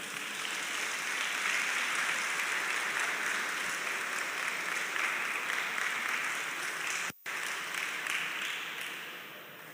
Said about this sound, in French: je vais vous demander les enfants d'applaudir les enseignants.